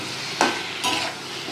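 Paneer frying in a pan, a dense close sizzle with two brief stirring scrapes of a utensil, no one speaking.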